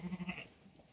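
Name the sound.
goats bleating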